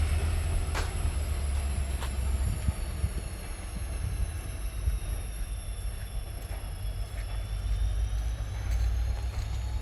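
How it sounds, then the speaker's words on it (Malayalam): A train on the Shoranur–Nilambur railway line in Kerala makes a steady low rumble and clatter, with faint metallic squeals and clicks, heard from nearby without talk. "11 മണിക്കുള്ള ട്രെയിനാണിത്."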